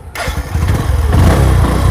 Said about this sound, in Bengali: আমি সাইডে সেলফ স্টার্ট দিয়ে বাইক স্টার্ট করতে পারবো